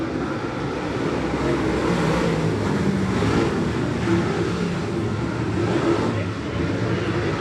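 Dirt late model race cars roar around the oval at Jackson County Speedway in a heat race, a steady, broad engine drone at a distance that stays loud and unbroken throughout, with faint commentary under it.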